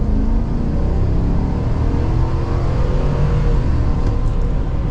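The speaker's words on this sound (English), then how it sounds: "we are setting off now in the ZR2 Bison" 2023 Chevrolet Silverado 1500 ZR2 Bison full-size pickup pulling away, a loud, steady low engine rumble and drivetrain drone with road noise throughout, no talk.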